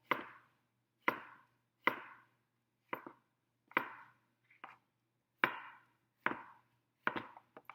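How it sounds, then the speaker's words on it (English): A knife slices squash on a cutting board, about ten crisp separate chops at an unhurried, slightly irregular pace, each a sharp tap followed by a short scraping drag, with silence between strokes. "Rock your knife, tip in first, drag it back."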